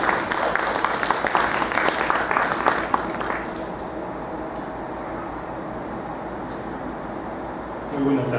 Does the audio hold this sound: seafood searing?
no